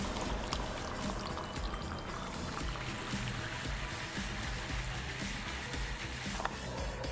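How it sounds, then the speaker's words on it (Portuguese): Water pours into a measuring cup already holding a cleaning product for sanitizing a rug, a steady close gushing stream with splashy texture that continues without pause for several seconds. "vamos completar aqui as 500 ml com água"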